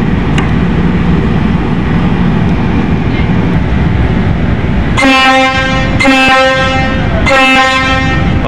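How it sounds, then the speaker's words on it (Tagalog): A loud, deep ship horn blares in three long blasts with brief gaps, over a steady rumble of engine and wind noise. "Lakas ng busina, eh."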